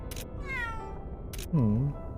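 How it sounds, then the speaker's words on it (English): A cat meows in the video game Mana Khemia, one clear falling meow near the end, loud and close, after brief game voice sounds and background music. "all he hears is a meow now"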